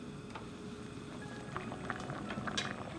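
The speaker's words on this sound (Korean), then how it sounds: "감자가 반쯤 익었을 때 호박을 넣고 칼국수 면을 넣어 끓여주세요" Kalguksu noodle soup with zucchini and potato simmers in a pot, giving a quiet, steady bubbling with small pops and patters throughout and no one speaking.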